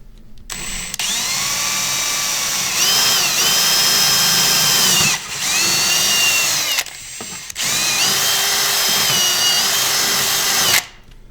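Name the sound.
power drill drilling a hole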